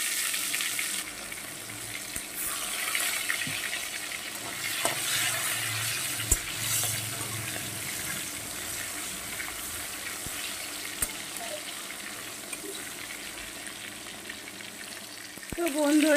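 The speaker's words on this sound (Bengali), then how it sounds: "তো বন্ধুরা, টমেটোটা কিন্তু আমার ভাজা হয়ে গেছে।" Chopped tomato fries in a pan with cumin seed tempering, giving a steady, moderately loud sizzle with occasional stirring scrapes and clicks, and no talking.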